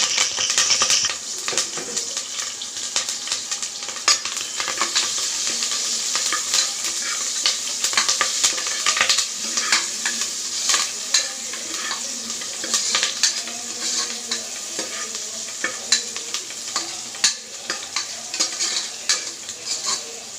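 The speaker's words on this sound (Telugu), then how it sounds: "దీంతోకి ఆవాలు కరివేపాకు ఉల్లిపాయలు బాగా వేయించుకోవాలి" Mustard seeds, curry leaves and onions frying in about three spoons of oil in a pressure cooker give a steady close sizzle, broken by scattered crackles and the scrape of stirring, with no talk.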